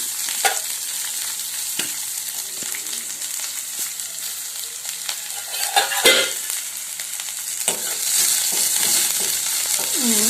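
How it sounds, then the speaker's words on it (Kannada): Onions, chopped chillies and curry leaves fry in a hot pan as tempering for a fenugreek sprout palya, giving a steady close sizzle with occasional stirring scrapes that grows louder toward the end. "ಕರಿಬೇವು ಹೆಚ್ಚಿಟ್ಟಿರೋ ಮೆಣಸಿನಕಾಯಿ ಮತ್ತು ಈರುಳ್ಳಿಯನ್ನು ಸೇರಿಸ್ತಾ ಇದ್ದೀನಿ"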